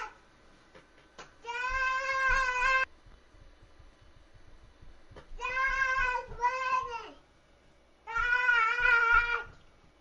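A cat meows loudly and repeatedly in long, drawn-out wails, three or four separate calls with short pauses between them, close to the listener and heard alone without talking.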